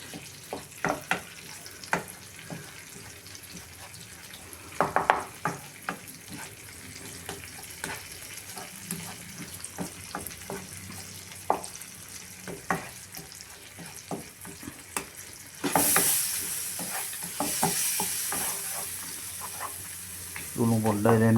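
Mushrooms with chilies fry in a pan over low heat, a soft steady sizzle broken by frequent clicks and scrapes of stirring, close by, ending in a louder burst of hissing spatter.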